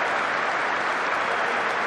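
Cricket crowd at a Test match in the Border-Gavaskar Trophy applauding at stumps on day three, a steady, dense wash of clapping that holds evenly throughout with no voices standing out.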